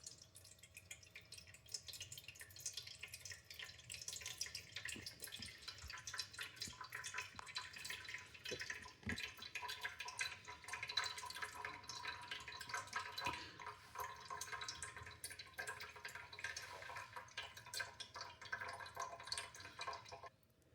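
Tap water pours steadily into a pot, a continuous splashing hiss with scattered drips, no voices.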